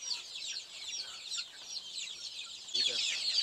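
Chicks being fed crumbles peep and cluck steadily in a high, busy chorus, close by, with a brief louder flurry near the end.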